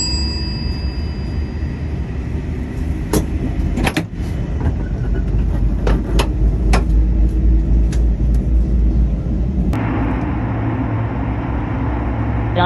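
Steady low rumble and rail roar inside a crowded Shinkansen E5 series bullet train at speed, heard from the deck between cars, with a few sharp clicks and clanks and a shift in tone near the end.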